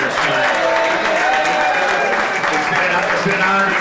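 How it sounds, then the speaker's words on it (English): An audience at a chamber of commerce awards ceremony claps for the award winners, with steady loud applause and voices and chatter mixed in. "One more round of applause for all of our award winners tonight"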